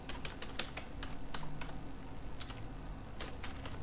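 A terminal command is typed on a computer keyboard: a short run of close, crisp key clicks at an uneven pace over a faint background hum.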